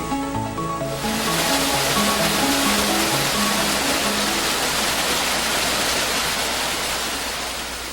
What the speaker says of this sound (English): the pumper, taking water from the hydrant, steps up the pressure to produce efficient firefighting stream